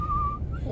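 A person whistling one short, clear sustained note that drops off and then rises briefly, close and alone with no talk.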